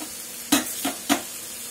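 Mint leaves sauté in a pan as a spoon stirs them, three short scraping, sizzling strokes over a quiet background.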